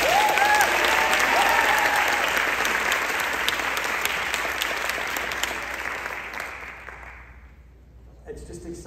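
Audience applause for Izzy, a high school student singer at a state vocal event, a full round of clapping from a crowd that swells and then fades to silence after about eight seconds.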